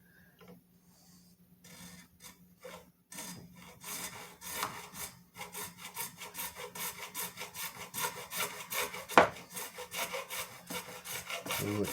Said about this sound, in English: I'm going to keep an angle on this and file down toward the tuner